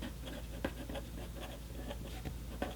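A Paper Mate ballpoint pen writes on the paper of an STM B5 dot-grid planner, giving faint, quiet scratchy strokes with small taps, close by and with no voices.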